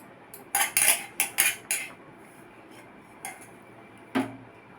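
Metal spoon scraping and clinking against a pan while soaked, softened sago is stirred into dal, a quick cluster of sharp clatters followed by a few isolated knocks in a quiet kitchen.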